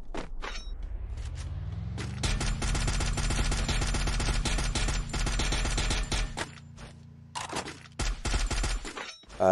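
Sustained rapid automatic gunfire in the battle royale video game Free Fire, a dense rattling burst lasting several seconds, with a brief pause and then more shots, loud and close over a low engine-like hum.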